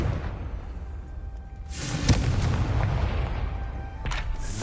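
A Confringo spell explodes in a Hogwarts video game, giving a booming blast with a whooshing burst. A second, sharper hit comes near the end.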